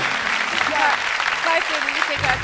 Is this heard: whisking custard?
no